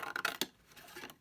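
Scissors cutting a flap on a paper gift box, with a few quick crisp snips close by at the start, then quieter rustling.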